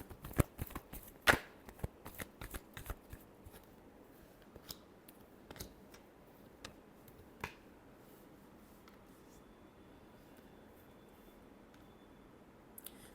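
Tarot cards being shuffled by hand, a quick run of crisp riffling snaps and taps up close in the first few seconds, then sparser soft clicks fading into quiet.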